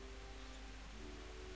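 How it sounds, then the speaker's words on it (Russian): Rain falls in the video game Kingdom Come: Deliverance, a faint, even hiss of steady downpour with a low hum beneath it, briefly heard with no talk. "Дождь идет, в принципе."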